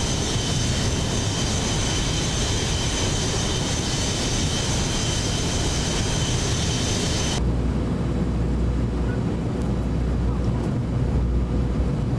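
A simulated airliner in the X-Plane 11 flight game cruises on a morning flight, its engines giving a loud, steady broadband roar throughout. Partway through, the upper hiss drops away and a deeper, rumbling drone remains.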